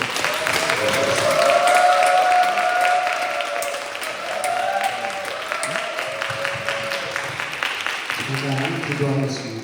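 A church congregation at a revival meeting bursts into loud, sustained applause, swelling and then slowly thinning, with a voice speaking over it near the end.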